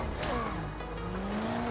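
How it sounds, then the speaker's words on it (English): Loud car engine roaring while drifting around Chinatown in a racing video game, with a sustained high whine and tire squeal sliding in pitch throughout, continuous and close. "this car is so loud"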